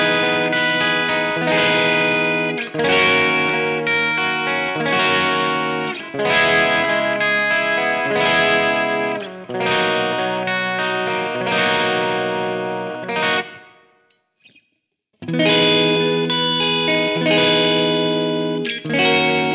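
A 2016 Gibson Les Paul Studio Tribute electric guitar plays light, bright, bouncy chords thick with distortion and chorus effects, pausing briefly near the end before resuming.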